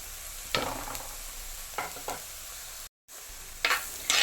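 Prepared, deboned tuna fish dropped into a hot pan for a Kerala-style thoran, a soft frying hiss broken by a few sharp stirring scrapes and clatters, fairly quiet with a brief gap of silence.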